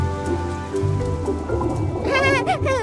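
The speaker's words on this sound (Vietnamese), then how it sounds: "Mưa đã quá, không khí dễ chịu hơn hẳn." Steady rain pours down in an animated cartoon, a dense continuous hiss with bright tonal music or sound-effect flourishes layered over it toward the end.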